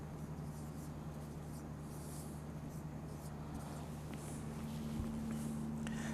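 Faint, steady scratching of a pen writing Hindi letters by hand on paper, continuous and close under a low background hum.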